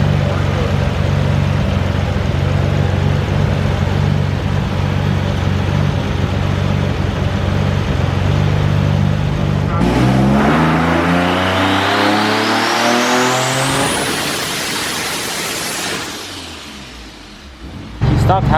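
Twin-turbo Nissan 370Z on a dyno pull, a loud steady engine drone for about ten seconds, then a rising wail of climbing harmonics that sweeps upward before cutting off near the end, with speech faintly underneath.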